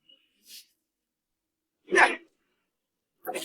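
A voice imitates a dog's bark: three short, rough yelps spaced a second or more apart, with silence between them.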